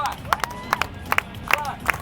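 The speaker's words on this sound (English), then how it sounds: "everybody clap your hands" Audience clapping in slow unison at a Canon EOS 5D Mark IV camera presentation, about eight sharp claps in an even rhythm, with crowd murmur and voices underneath.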